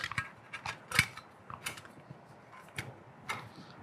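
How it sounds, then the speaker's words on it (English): A plastic cover for a Quantum IV door lock slides over the handle and into place, giving a scattered run of faint, close clicks, scrapes and small knocks with quiet gaps between them. "I'm gonna take this cover, slide it over the handle and around"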